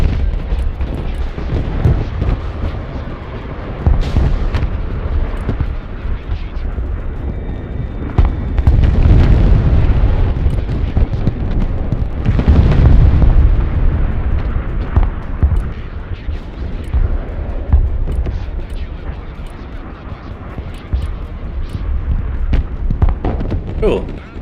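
Bomb strikes in a combat video game, heavy booming blasts and rumbling impacts rolling on and off over a long stretch, loud and close, with scattered sharper cracks in between.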